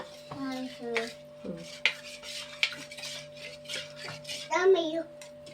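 A spoon stirs and scrapes as batter is poured into a pan: uneven clinks and scraping strokes over a steady electrical hum, with occasional voices nearby.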